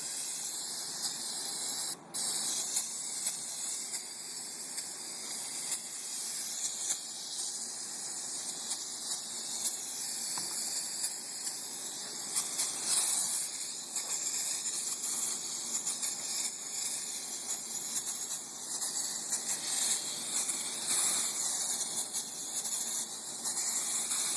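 Cleaner sprayed from a can over a Ford 2000 transmission above a catch pan, a steady hissing spray running continuously with no talk.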